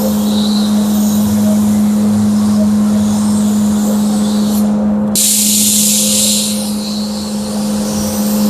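A spray gun lays down a coat of paint with a steady, loud airy hiss that runs throughout, changing to a brighter, stronger rush midway as the spray pattern shifts; a constant low hum sits underneath.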